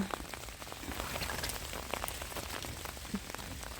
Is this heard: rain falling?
yes